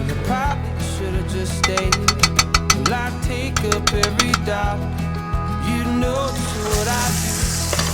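Hot grease crackling and sizzling in a pan, with a run of sharp pops and spits over a steady frying hiss.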